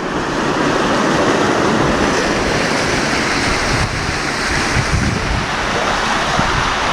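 Wastewater pours into the Godavari River in Maharashtra as a loud, steady rush of flowing water, constant and close, with a windy roar and no voices over it.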